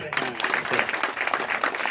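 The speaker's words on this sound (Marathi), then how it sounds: "वाजवा टाळ्या" Audience applause at a Shiv Puran religious discourse gathering in a Maharashtra village, a dense continuous patter of many hands clapping, fairly loud and steady throughout, with voices mixed in.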